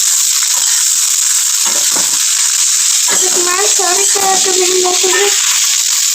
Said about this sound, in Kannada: ಕ್ಯಾಪ್ಸಿಕಮ್ ಹಾಕ್ಕೊಂಡು ಫ್ರೈ ಮಾಡ್ಕೋಬೇಕು ಚೆನ್ನಾಗಿ ಫ್ರೈ ಮಾಡ್ಕೋಬೇಕು